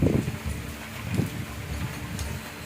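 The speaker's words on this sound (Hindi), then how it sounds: "हवा चल रही है थोड़ी थोड़ी।" Gentle wind blows along the bank of the Narmada river during rain, a soft steady rush with faint rustling and a few low gusts, no voices.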